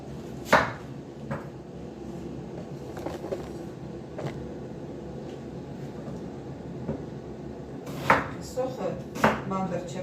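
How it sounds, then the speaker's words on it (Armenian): An onion chopped with a knife in a home kitchen, a handful of sharp, separate knife strikes against a board at irregular intervals, loudest near the end, over low background noise. "սոխը մանդր չեմ կտրտելու"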